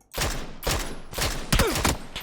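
Gunfire in the battle royale shooter PUBG on the Taego map: four rapid bursts of close, loud shots in quick succession, with no talk.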